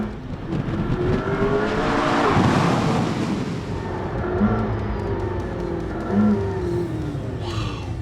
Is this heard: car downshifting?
yes